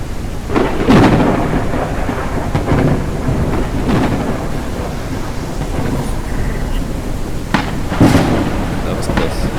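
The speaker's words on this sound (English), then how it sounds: "Looks like this storm is blowing everything away." Thunder rumbles and cracks during a stormy sky in the video game Forever Skies, with several loud booming strikes over a continuous bed of rain and wind.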